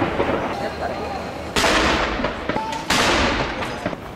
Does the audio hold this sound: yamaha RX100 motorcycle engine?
no